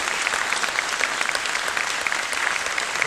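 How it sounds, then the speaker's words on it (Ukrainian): A crowd in a concert hall breaks into sustained applause at a televised jubilee show, brisk even clapping with individual hand claps standing out and no one speaking. "Я хочу, щоб ви його підтримали оплески"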